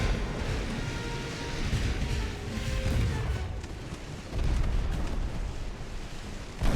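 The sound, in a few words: warship guns firing in Ultimate Admiral: Dreadnoughts video game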